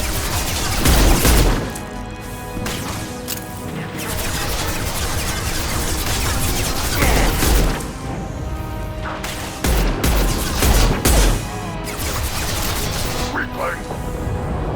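Grenade blasts and gunfire in Mass Effect 2 combat, with several loud booming bursts at intervals over continuous battle noise, and voices talking throughout.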